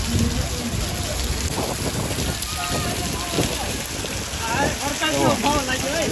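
Floodwater after heavy rain rushes and churns loudly around a four-wheeler car in a steady roar, with voices and bits of talk mixed in near the end.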